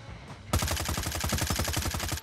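Rapid bursts of automatic gunfire from the mobile video game Call of Duty: Mobile, loud and sustained after a brief quiet start, with sharp repeated shots in quick succession.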